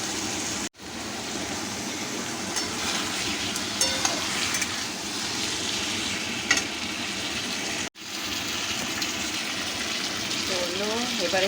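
Taro stems sautéing in a pan as their released water cooks off, a steady loud sizzle with stirring scrapes throughout, broken by two brief moments of silence.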